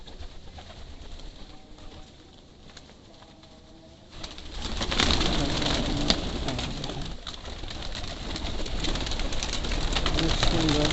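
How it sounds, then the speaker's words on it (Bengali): Pigeons at a loft where they have just been fed, with cooing and bird calls, wing flaps and rustling, growing busier and louder partway through, and a person speaking quietly. "এই যে কবুতর সব"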